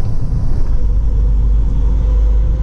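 A tractor-trailer truck merges onto I-95 in Florida, giving a steady, close, loud low engine drone and road rumble with no break and no voices.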